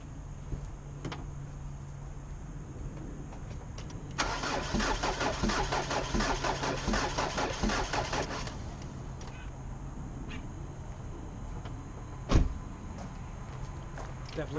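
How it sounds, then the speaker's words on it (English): A Jeep Liberty CRD diesel engine with its injectors disconnected cranks over for about four seconds in an even, rhythmic whir, then stops. Low background hum surrounds it, with one sharp click shortly after. "See if the cranking sounds normal"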